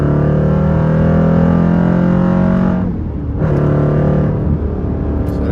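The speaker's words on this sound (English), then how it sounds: "I'm gonna bang on it so you guys can hear how the exhaust notes sound." A 2018 Dodge Durango SRT in track mode roars hard under throttle, its loud deep exhaust holding steady, dipping briefly at a shift, then surging again, close and with no talking.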